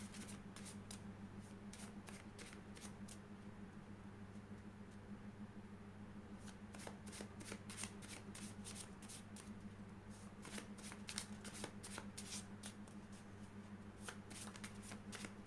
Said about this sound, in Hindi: Let me shuffle the card.